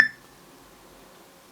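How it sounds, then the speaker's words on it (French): A single short electronic alert beep from a No.1 S3 smartwatch notifying of a phone event, sharp at the start and fading quickly over a faint background hiss. "C'est une notification en fait qu'il y a sur mon téléphone."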